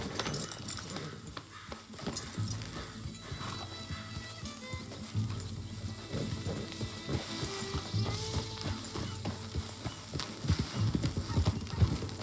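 Rhythmic clip-clop of horse hooves plodding steadily in the video game Red Dead Redemption 2, with faint creaks and rattles of tack and an occasional soft snort.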